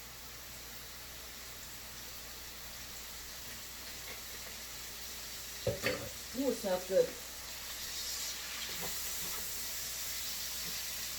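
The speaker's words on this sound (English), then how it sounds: "You hear that sizzle?" Vegetables stir-frying in a little olive oil in a pan give off a low, steady sizzling hiss throughout, while a person speaks briefly in the middle over it.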